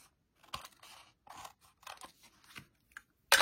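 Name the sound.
scissors trimming off excess paper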